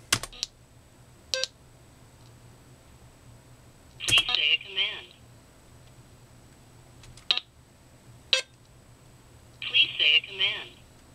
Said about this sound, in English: that'll send a small pulse across that button, activating the Jabra speakerphone